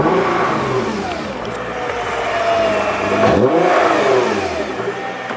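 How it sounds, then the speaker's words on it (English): A Nissan GT-R engine idles with a close, loud, rumbling drone, then gives one quick rev that swells and falls back. "We'll do just a quick rev"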